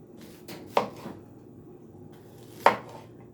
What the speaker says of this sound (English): we're going to slice this diagonally